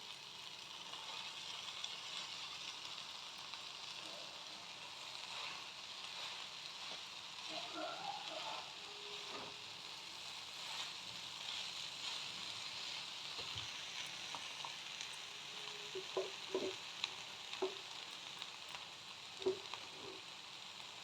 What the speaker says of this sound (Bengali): এবার এই শাকগুলো দিয়ে দেবো, মেথি শাক।